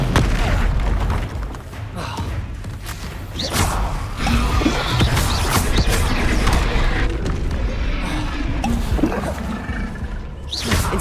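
Incendio fire spell cast in Hogwarts Legacy, heard as loud booming bursts and whooshing blasts amid dense, continuous game combat noise for the whole stretch.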